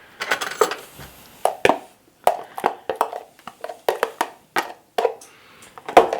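A spoon scrapes and clicks against a pan or tray while spreading raw pumpkin seeds for roasting, giving a string of short, close taps and rattles with small pauses between them.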